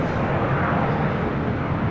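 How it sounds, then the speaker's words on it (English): Southwest Boeing 737 MAX 8 airliner arriving at an airport, a loud, close, broadband jet roar held steady throughout. "Southwest flight heading into Terminal 1. Coming in from Dallas left field, flight 559, 737 MAX 8."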